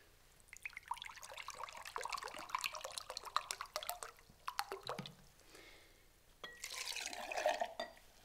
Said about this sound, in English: We're gonna add 1 cup of water to the glass.